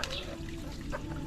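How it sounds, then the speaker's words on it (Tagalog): Water draining from a container during medicine preparation for a sick chicken, a light continuous trickle close by with faint bird sounds in the background. "pa-drain na yung tubig nya"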